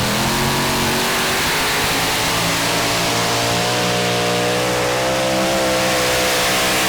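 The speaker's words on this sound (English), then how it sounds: "It's 4 V8 engines, big racing engines." A pulling tractor powered by four big V8 racing engines roars at a tractor pulling competition in Denmark, a loud sustained engine howl that climbs steadily in pitch as it pulls, with crowd-level noise beneath it.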